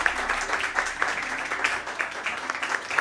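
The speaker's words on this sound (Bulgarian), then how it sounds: "Аплодисменти за Асия, една от редакторите." Modest applause from a small audience at a novel presentation, honoring one of the book's editors, with scattered rhythmic claps at a moderate level and no clear voices.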